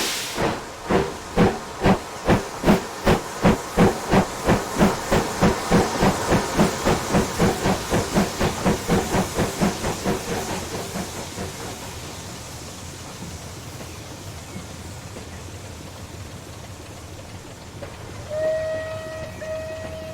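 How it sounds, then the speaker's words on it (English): Steam locomotive 34062 17 Squadron departing Milford-on-Sea, with loud rhythmic exhaust chuffs that speed up, then fade into hiss, and a brief whistle near the end. "a steam service was in operation, taken by 3406-217 Squadron. She is seen here departing Milford-on-Sea with a train bound for Wellow."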